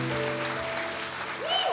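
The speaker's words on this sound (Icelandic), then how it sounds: "gefum bara hlaðgerðarkoti gott klapp" A gathered congregation at the Kotmót 2024 meeting applauds the 50th anniversary of the Hlaðgerðarkot treatment home, a short, steady wash of clapping with sustained musical tones humming underneath.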